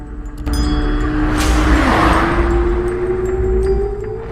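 A cartoon car drives along with a loud steady engine rumble and a rising whine that swells and then holds, ending with a slight drop in level.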